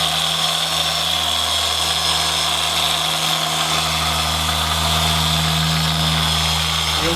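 A car polisher runs flat out buffing paint, giving a loud, steady motor drone with a constant hum close by, unbroken and with no talking.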